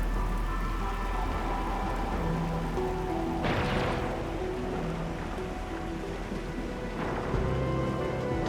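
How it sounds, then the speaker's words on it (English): Steady rain pouring in the Arknights Endfield game world, a constant hiss with a couple of brief louder gusts or rumbles rising out of it. "It's raining harder. I can't hear anything except for the rain."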